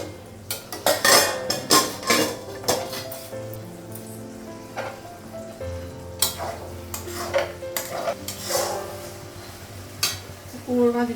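A wok and pots clatter and clank in a home kitchen as the wok is lifted off the gas stove after frying boras, with repeated sharp metallic knocks, scraping and a faint sizzle throughout.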